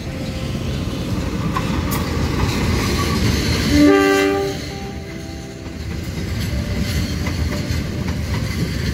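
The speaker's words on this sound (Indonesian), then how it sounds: "Nah, ini yang kereta api lokal yang sampai Garut." A local passenger train to Garut rumbles past at Padalarang station, giving a long horn blast midway over a continuous roar of wheels and cars. No one speaks.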